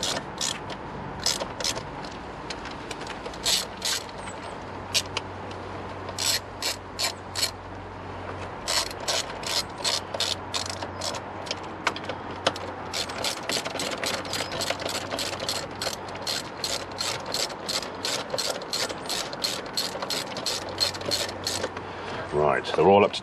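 Repeated clicking ratchet strokes in quick bursts as alternator bolts are tightened on a Mini One/Cooper R50/R52 with a 1.4 or 1.6 litre engine, close up over a low steady background hum.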